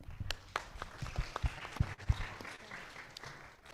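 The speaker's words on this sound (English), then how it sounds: "Let us give them a lot of applause" Scattered audience applause after a team's presentation at a CFA Institute Research Challenge local final in Kenya: irregular, fairly faint claps from a modest crowd, some sharper individual claps standing out.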